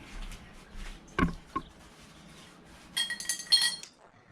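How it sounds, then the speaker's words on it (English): Glass of lemon water clinking, a few sharp bright chinks near the end of a short quiet stretch, with a couple of low knocks earlier. "This is the glass of lemon water."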